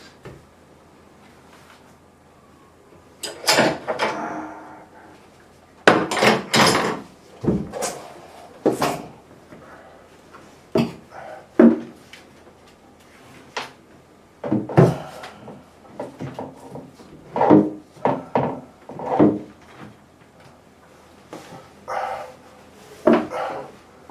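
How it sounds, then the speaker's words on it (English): Tools clatter and clank as someone rummages for wrenches during bathroom sink repair, a string of loud irregular metallic knocks and thuds, close by, with quiet gaps between bursts. "Got to get my wrenches."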